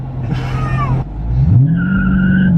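A Dodge Charger Scat Pack spins its tires, a loud, close, rising screech over the rumbling engine that settles into a steady squeal.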